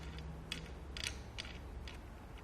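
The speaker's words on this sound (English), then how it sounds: "I'm going to tighten down my bolt just a little bit" Bolt being tightened on a Rhino-Rack 2500 Series roof rack foot pack mounted to a crossbar, giving a few faint, close, evenly spaced creaking clicks of a ratchet-like mechanism over quiet background hiss, with no talking.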